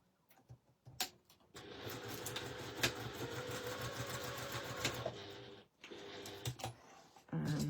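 Sewing machine running in a steady fast whir as it stitches a zip into folded fabric, starting and stopping in short runs around one long continuous burst, close and clear.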